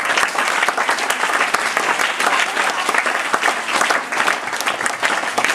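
A room of children claps together in a school classroom in Karimnagar, a loud, steady burst of dense applause that runs without a break, with no talking over it.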